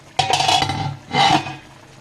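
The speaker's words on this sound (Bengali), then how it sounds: "ঢাকনাটা উঠিয়ে নিচ্ছি।" A metal lid lifted off a pot of simmering biryani meat and potatoes on a medium flame, two clattering metallic clinks and scrapes close by, with quiet cooking hiss between them.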